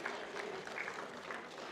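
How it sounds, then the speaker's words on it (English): Applause from an audience at a tech conference panel, a brief, fairly faint patter of clapping hands with no voices over it. "Give him a round of applause,"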